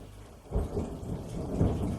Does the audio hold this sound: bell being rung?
no